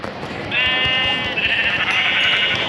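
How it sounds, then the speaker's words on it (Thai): Sheep bleating in a video game, a long wavering digital bleat starting shortly in, then continuing brighter and steady, fairly loud over a constant background of game noise. "ขั้นแรกเราก็ต้องฆ่าแกะก่อน"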